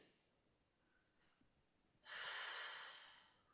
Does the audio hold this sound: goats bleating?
no